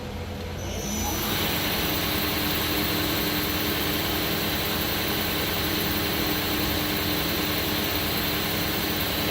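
A Miyano BND51C CNC lathe's main spindle winds up through its speed range, a loud, steady high whine and whirring hum that rises in and then holds, with no talk over it.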